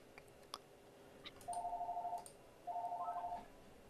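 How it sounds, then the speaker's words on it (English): A phone rings twice indoors: two trilling electronic bursts, each under a second, faint to moderate against a quiet room. A few light clicks come before them, and no one talks. "I'm going to ignore the ringing phone."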